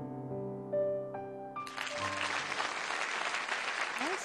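A short musical phrase gives way to a burst of audience clapping at a televised wedding host competition on stage; the applause is broad and sustained, filling the room for the last few seconds.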